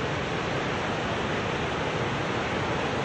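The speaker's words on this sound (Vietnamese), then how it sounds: "Nước lớn, tiếng thác đổ ầm ầm" Ban Gioc waterfall roars with heavy, high water, a dense, steady wash of falling water that fills the scene loud and close, with no voices over it.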